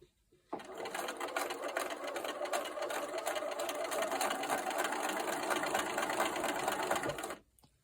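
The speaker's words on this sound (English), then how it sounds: "So I'm going to sew my 1/4 inch to the edge of this triangle on top." Sewing machine stitching a quarter-inch seam along the edge of a bias-cut fabric triangle, running in one steady continuous whir for about seven seconds before stopping, close and clear with no one speaking.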